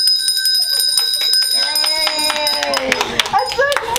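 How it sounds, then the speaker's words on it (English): A handheld bell is rung in a bridal shop, with bright metallic ringing strikes building into repeated clangs over a few seconds, loud and close, amid cheering and excited voices. "go ahead and ring that bell"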